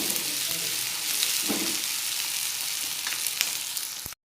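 Bitter gourd frying in tikka masala gives a dense, continuous close sizzle with a few faint stirring scrapes, alone and unbroken before cutting off abruptly.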